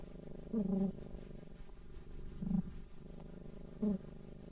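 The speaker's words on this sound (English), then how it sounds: "Can you hear Sasha purring?" A cat purrs steadily up close, with three louder swells of rumbling spaced a few seconds apart over a low continuous hum.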